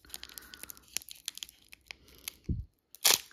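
Crisp tearing and crinkling of foil Pokémon Astral Radiance trading card packs opened by hand, a few short rips in bursts, close up and fairly quiet, with one sharper rip near the end.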